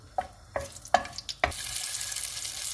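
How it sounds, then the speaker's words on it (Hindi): A few sharp taps and clinks of a utensil sound against a pan, then bay leaves, a cinnamon piece and green cardamom drop into hot oil and start a loud, steady sizzle that carries on to the end. "ऑयल गर्म हो गया, इसमें हम तेज़ पत्ते डाल देंगे, दालचीनी का पीस और सब्ज़ इलायची और इनको 1 मिनट तक फ्राई करेंगे।"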